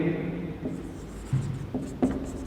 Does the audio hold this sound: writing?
yes